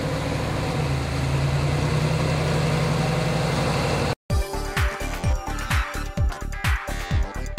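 A GM car engine runs on a dyno: first a loud, steady, even drone, then after a brief cut a series of rhythmic throttle blips and revving bursts, close and powerful, with no talk.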